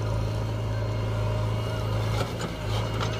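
A JCB machine's engine drones steadily and loudly while its bucket loads a Mahindra 275 tractor trolley, a continuous close mechanical rumble with no break.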